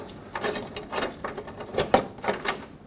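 A lower front bumper bracket bolt on a 2011–2016 Ford F-350 being snugged down with a hand tool, making a run of irregular mechanical clicks and ratcheting taps, close and moderately loud, with no speech.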